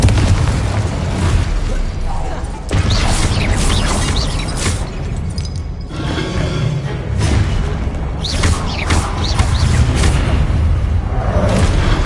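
Confringo fire-blast spells going off in Hogwarts Legacy, a loud, continuous roar of fiery bursts and booms running through the whole stretch with no clear pauses.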